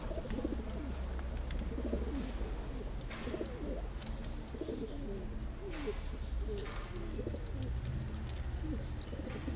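Adana native pigeons coo softly and repeatedly over a steady low rumble, with occasional faint flutters and rustles.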